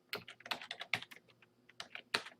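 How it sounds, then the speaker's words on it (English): Someone types a name on a computer keyboard, producing quick, close, irregular clicks and key taps in short bursts with brief pauses, crisp and fairly faint, with no voices. "what I do is I start typing my name"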